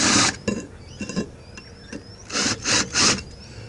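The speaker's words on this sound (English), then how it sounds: "I'm just going a bit of a clearance drill and deburring the holes" Clearance drilling and deburring holes in a metal damper plate for a diesel cruising boat, with bursts of harsh rasping and grinding separated by short pauses, close and loud, no voices.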